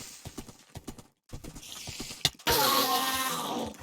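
Minecraft horse hooves clip-clopping in a quick, steady gallop, close and crisp, then breaking off into a louder burst of game noise.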